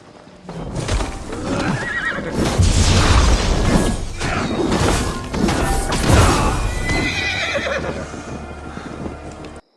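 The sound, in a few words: horses neighing and galloping in Assassin's Creed Valhalla video game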